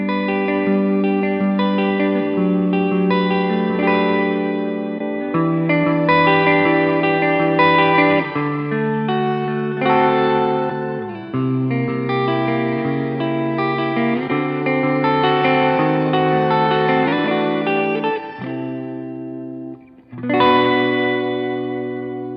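Electric guitar through an Origin Effects M-EQ Driver overdrive pedal strums a series of sustained chords, slightly gritty and roomy, each ringing for a few seconds before the next change, with a brief pause near the end.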